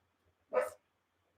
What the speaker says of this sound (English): My dog's angry.